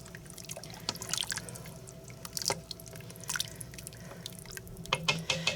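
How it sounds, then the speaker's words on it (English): Potato corn chowder being stirred in an Instant Pot, with soft, wet squishing and dripping sounds that come and go quietly over a low background. "so I'm going to stir this up"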